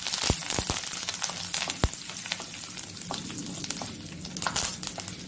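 Curry leaves sizzle in hot tempering oil with spices for a drumstick-leaf fry. The frying is steady and close, broken by sharp pops and crackles, and no one speaks.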